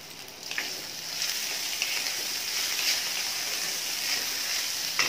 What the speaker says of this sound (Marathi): आता आपण हे शेंगदाणे घालून घेऊया। 1-2 मिनिटं छान परतून घेऊया।